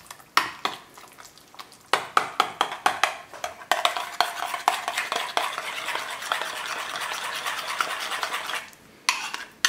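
A spoon stirs mayonnaise and a tablespoon of vinegar into a Piedmontese salad in a bowl, sounding as a steady run of scraping clicks and wet mixing that goes on for several seconds.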